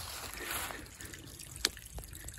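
A small stream on a rural Polish homestead trickles faintly after four days of rain, a quiet, thin flow of water with one brief splash.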